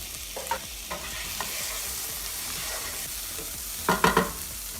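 Roasted red pepper goes into a sizzling pan of frying food. A steady hiss runs under scraping stirs, with a burst of louder spoon strokes near the end, heard close and without speech.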